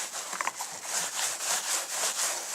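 Fabric rubbing back and forth over a porcelain doll head coated in motor oil, a soft rhythmic swishing scrub repeated at an even pace, close and fairly quiet.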